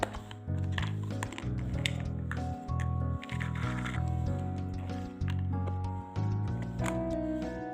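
A rubber spoon mixes a honey face mask in a container, producing soft, sticky squishing and tapping strokes in uneven bursts, close and quiet, with a faint musical background underneath.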